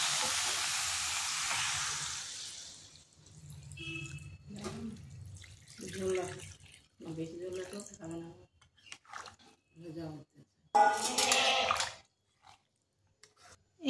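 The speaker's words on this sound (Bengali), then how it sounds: "পরিমাণ মতো জল দিয়ে দিচ্ছি সেদ্ধ হওয়ার জন্য।" Water pours steadily into a pan of chicken stew set to boil, a broad rushing splash for the first few seconds before a voice talks over quieter kitchen sounds.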